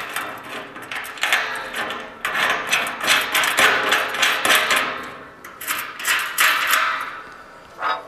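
Metal nuts are threaded on and tightened on a VEVOR centrifuge stand, giving close, repeated clinking and scraping taps in uneven bursts with no talk over them.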